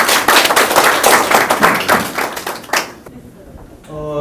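Seminar audience applauding an introduced professor, a dense burst of many hands clapping that fades out, followed by quiet room tone and a faint tone at the end.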